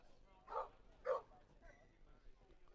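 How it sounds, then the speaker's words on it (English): A dog barks twice in quick succession, faint and distant, at Lowell Park during a summer collegiate baseball game, Wareham at Cotuit, over soft background crowd noise. "Woof woof here at Lowell Park."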